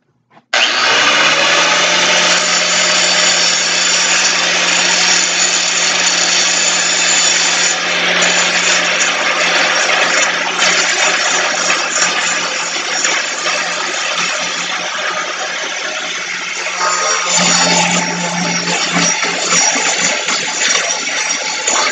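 A power tool grinds and rounds off steel angle iron pieces for a homemade go-kart's tilt steering, a loud, continuous high whine that holds steady for about twenty seconds, shifting pitch slightly near the end.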